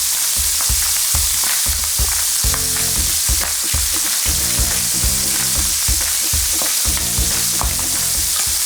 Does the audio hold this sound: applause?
no